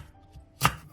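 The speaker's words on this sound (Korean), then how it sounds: "양파, 사과, 배, 홍고추, 무 자투리를 갈기 좋게 잘라주고" A knife strikes a cutting board once while onion, apple, pear, red chili and radish scraps are cut into pieces, giving a single crisp, close chop against a quiet background.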